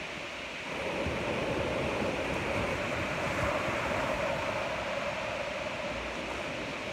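Ocean surf rolls onto a beach at sunrise in a continuous soft, hissing wash, moderately distant and fairly faint, with a breezy texture and no voices.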